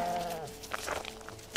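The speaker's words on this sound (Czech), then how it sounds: "Teďka krmím kozy." Goats bleating while being fed by hand, one loud wavering bleat up close followed by shorter, fainter bleats and scuffling, with no speech.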